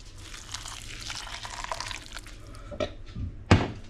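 Water is poured over rice in a baking dish, a short splashing trickle with a few drips and a sharper splash at the end, close and fairly quiet.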